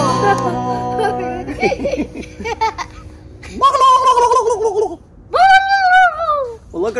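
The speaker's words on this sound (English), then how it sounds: "those are sandhill cranes going south for the winter" Flock of sandhill cranes flying south for the winter, calling overhead in loud rolling, warbling bursts that rise and fall, with a voice heard among them.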